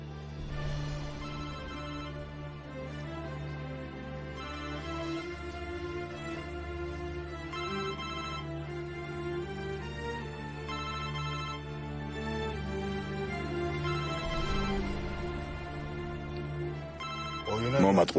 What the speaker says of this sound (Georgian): ტელეფონს უპასუხე.